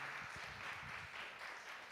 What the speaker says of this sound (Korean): 우리 하나님께 우리 다시 한번 감사와 영광의 박수 올려드리겠습니다